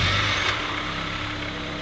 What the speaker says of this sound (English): Smooth, 4-cylinder. The engine's quiet, but it makes a decent sound.